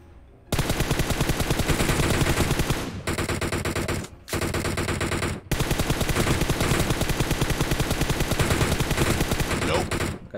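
Rapid automatic gunfire from an online shooter game, loud, dense bursts running almost continuously with a couple of brief pauses, close and dominant, no talk over it.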